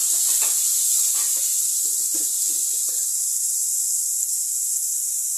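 Onions sautéing in a pan with salt for a veg kurma, giving a steady, fairly loud sizzling hiss with faint crackles and a few light stirring clicks.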